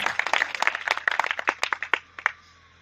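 Audience clapping at a Hindi kavi sammelan poetry recital in Shadiyabad, Ghazipur, a short burst of crisp claps from a small crowd that thins out and stops within a few seconds.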